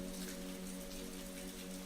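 Steady rain falling in a park, a soft continuous hiss of drops with a low sustained musical drone beneath, quiet and even throughout.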